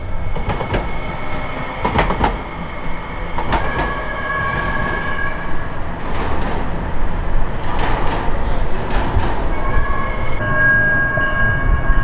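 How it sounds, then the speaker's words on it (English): A light rail train rolls past close by outside Target Field, a loud steady rumble with rhythmic clacks of wheels over rail joints and squealing tones, no voices. "here comes the light rail"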